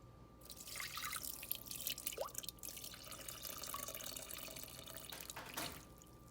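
Water poured into a bowl of sourdough dough ingredients, a steady trickling splash running for several seconds at moderate level, tapering near the end.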